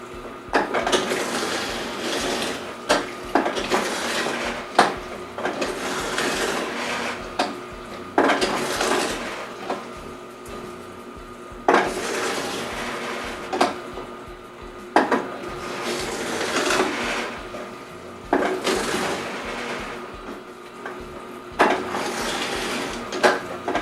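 Omega TWN30S or Green Star GSE-5000 twin-gear juicer crushing hard carrots through a fine hole screen, giving repeated bursts of loud clattering, cracking and grinding, one burst every few seconds with no talk.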